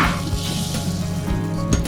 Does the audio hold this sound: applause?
no